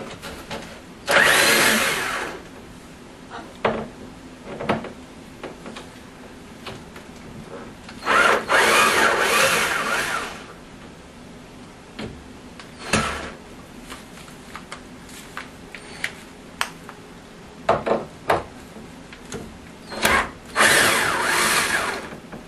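A power drill backs screws out of wood while working on an arcade cabinet control panel support, in several separate whirring bursts of a few seconds each, with quieter clicks and handling noises between them.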